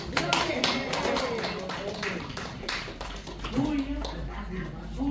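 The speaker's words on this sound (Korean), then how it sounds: "박수" Scattered clapping from a small audience at a volunteer magic show in a day care center, irregular claps that thin out as voices chatter and talk over them.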